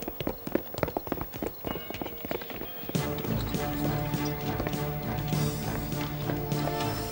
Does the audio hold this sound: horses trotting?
yes